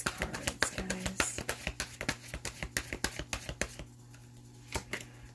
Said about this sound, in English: I'm going to get one more card out and see if we can start feeling out the energy of these cards